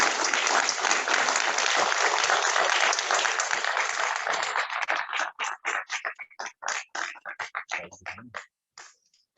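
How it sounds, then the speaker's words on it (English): A crowd at a National Milk Day event at BHU, Varanasi gives a sponsor a loud round of applause, dense at first, then breaking into scattered separate claps that trail off. "A huge round of applause."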